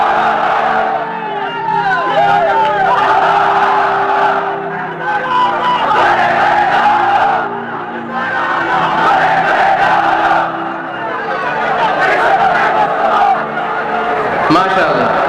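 Large mosque-style congregation at a Bangla religious sermon by a preacher shouting the takbir in loud, sustained massed voices, rising and falling in several waves across the stretch, with a preacher's voice mixed in.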